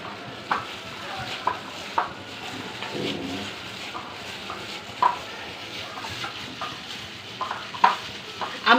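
Wet, squelching hand-mixing of a sugar-free batter of mashed ripe banana, oil and flour, with soft continuous squishing and a few sharper knocks against the bowl, fairly close and steady.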